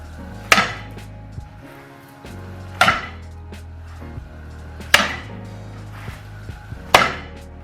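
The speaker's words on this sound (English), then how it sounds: "take the pancake with a spatula and throw it back to the pan aggressively" A scallion pancake slammed down onto a hot pan with a spatula, four sharp loud thwacks spaced about two seconds apart, each followed by a short ringing tail over a low sizzle.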